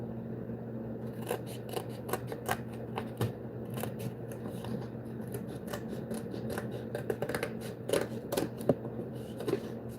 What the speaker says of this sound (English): This tire needs to be trimmed a little bit.